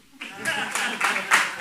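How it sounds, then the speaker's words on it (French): A comedy club audience claps and applauds briefly, a short swell of clapping that rises and falls while someone speaks over it. "On applaudit pour l'ingénieur du son aussi."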